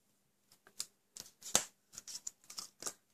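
Paper for a handmade card is trimmed with a few quick, sharp snips and slicing strokes, close and fairly quiet, irregularly spaced with no talk.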